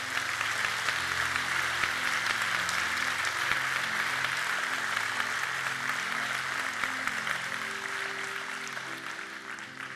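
Congregation applauding during a church service, a dense, steady wash of many hands clapping throughout, with faint music or voices underneath.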